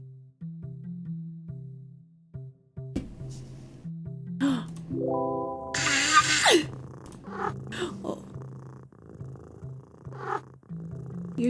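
A cat purrs softly in low rhythmic rumbles, close and intimate, broken by a brief louder buzzing burst midway and a few faint vocal sounds.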